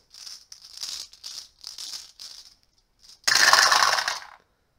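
Several short clattering rattles of three dice shaken in a cup during a Shadows of Kilforth board game, then a loud burst as they tumble out onto a hard surface.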